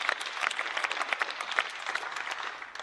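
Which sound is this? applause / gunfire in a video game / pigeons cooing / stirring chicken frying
applause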